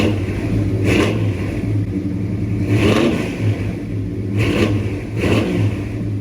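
A 383 stroker V8, dyno-rated around 379 horsepower and 420 lb-ft, revs in a pickup truck, a steady low idle rumble swelling into four short throttle blips at near-even intervals, close and loud.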